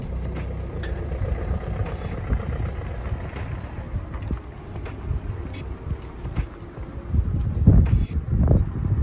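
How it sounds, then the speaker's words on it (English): Continuous metallic squealing and rumbling from a BMW 3 Series' squeaking brakes while pulling away, with a high sustained whine over low mechanical noise that grows louder toward the end. "as I pull away, it squeaks like mad, and then as you reverse, it stops again."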